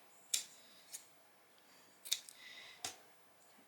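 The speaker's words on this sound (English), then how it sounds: "you can just grab your scissors and cut those off" Sharp, quiet snips of scissors trimming the small triangular dog ears off a quilt block's fabric, four crisp cuts spaced irregularly over near silence.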